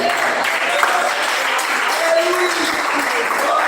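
A church congregation claps in praise during a service, a continuous crowd patter that holds steady throughout, with voices mixed in beneath the clapping.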